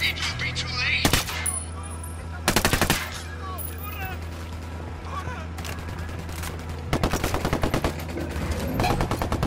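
Bursts of automatic gunfire in the Ghost Recon video game, with loud rapid volleys around one, two and a half, and eight seconds over a constant low rumble and scattered smaller battle sounds.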